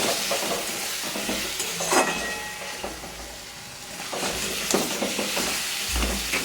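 Chicken stir-fries in a pan with a constant hiss, while a spatula scrapes and knocks against the pan in irregular bursts.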